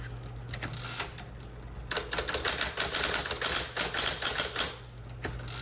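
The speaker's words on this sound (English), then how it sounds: "I will just type a couple sentences" Keys strike on a Smith Corona Electra 12 electric typewriter in a burst of rapid, irregular clacks, with a few isolated keystrokes before and after, close and fairly loud over a steady motor hum.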